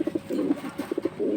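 High-flying Giribaz pigeons coo in a series of short, rhythmic low pulses, close and fairly loud, with no talk over them.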